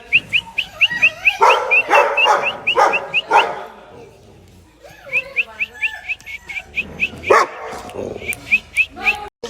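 Dogs, including one named Bruno, bark and yip at each other in quick repeated bursts, two clusters of sharp calls separated by a short lull, with voices heard nearby.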